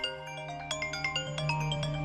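A phone rings with a repeating electronic ringtone melody, steady and moderately loud, carrying on for a couple of seconds with no talking over it.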